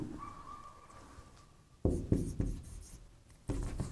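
A teacher writes on a board during a class-10 trigonometry lesson, with a faint stroke early on, then louder bursts of chalk or marker strokes, scratchy and close, with no voices.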